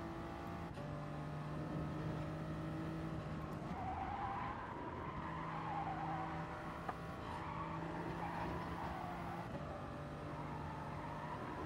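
A race car in Gran Turismo Sport oversteers, its engine droning steadily while the tires squeal and skid in long wavering smears over the constant motor noise.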